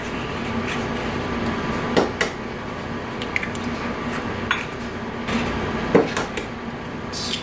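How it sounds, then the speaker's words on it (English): Four eggs being cracked into almond milk in a bowl, with scattered light taps, clicks and wet squishes over a steady background hum, close and moderately loud. "so to the almond milk, we're gonna add 4 eggs"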